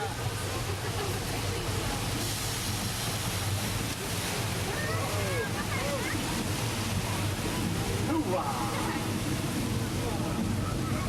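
Staged flash flood on the Universal Studios Hollywood backlot tour, thousands of gallons of water released from hilltop tanks rushing downhill as a continuous, loud, broadband roar and wash heard throughout.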